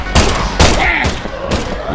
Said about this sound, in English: Let me show you how to shoot.